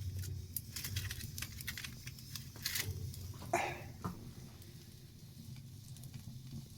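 Fish cooking in their own juices on glowing campfire embers during an overnight fishing trip in the Finnish forest, giving off a steady close sizzle and crackle with a few louder pops and stirring clatters.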